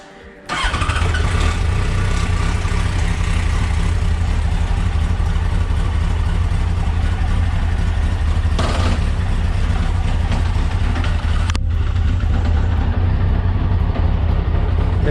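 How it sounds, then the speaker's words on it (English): A Yamaha FZ1 motorcycle engine cranks and catches after a brief quiet moment, then settles into a steady, loud, close idle with a deep, even low rumble for the rest of the clip. "let's start the engine"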